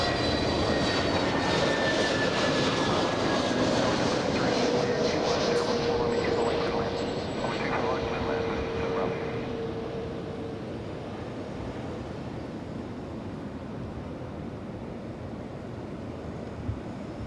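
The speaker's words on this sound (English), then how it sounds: "All right, American Airlines coming in. Flying in from Dallas, Texas." An American Airlines jet arriving on flight 1331 from Dallas, Texas, at Los Angeles International Airport, a steady broad engine roar with a whining tone that slowly fades, with wind or surf-like noise underneath and no talk.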